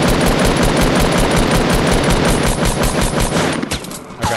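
Rapid bursts of automatic gunfire crack loudly and continuously in a video game firefight, a dense rattling stream of shots that thins out near the end.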